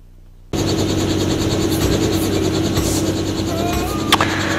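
Aircraft taking off near Newport, Oregon: a loud, steady engine roar starting abruptly after a half-second of quiet and holding close and constant, with a brief sharp click near the end.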